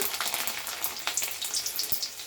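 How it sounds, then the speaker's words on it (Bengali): Chopped garlic sizzles in hot oil for a vegetable dal, a close, crackling fry with scattered sharp pops and spits over a continuous hiss, short and fairly loud with no talking. "রসুনটা দিয়ে দিলাম তেলের ওপরে"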